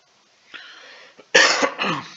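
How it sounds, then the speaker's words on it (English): A person coughs close by, a small throat sound first, then two harsh bursts of coughing in quick succession. "Excuse me. This cough."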